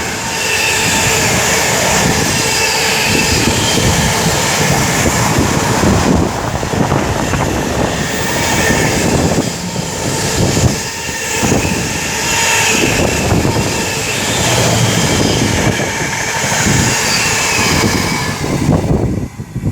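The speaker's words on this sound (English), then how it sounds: "we've got a Freightliner 66 here" A Freightliner Class 66 diesel freight locomotive and its wagons pass through Tamworth station on the West Coast Main Line, a loud, steady, close rumble and roar with wind buffeting that holds for the whole stretch.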